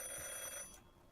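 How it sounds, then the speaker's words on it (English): A phone rings in the video game Drive Beyond Horizons, a steady electronic trill that stops and then restarts with a brief loud burst. "I hear the phone ringing."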